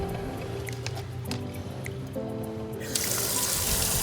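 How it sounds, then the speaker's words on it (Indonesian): Soybeans are washed by hand in water, squelching and sloshing close up with drips and trickles, ending in a louder rush of pouring or running water. "Lalu cuci bersih kacang kedelai."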